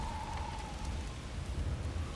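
Desert storm in the Alfheim sands of God of War Ragnarök, a steady rush of wind-driven sand like rain, with a faint low rumble and a thin sustained tone running underneath throughout.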